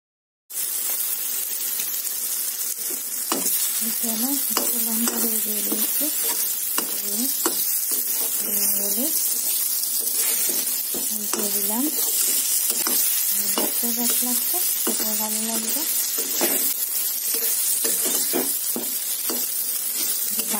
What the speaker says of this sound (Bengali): এখন ভেজে নিই, কড়াইয়ে বসিয়ে দিলাম, তেল দিয়ে দিলাম সাদা তেল